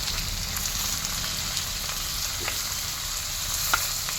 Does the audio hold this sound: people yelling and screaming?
no